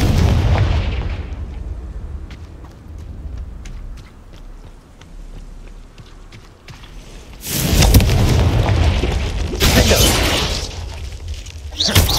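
Repeated Confringo fire spells burst in Hogwarts Legacy, booming explosive blasts with a harsh crackle that flare loudly in the second half, set against a constant rumbling game background.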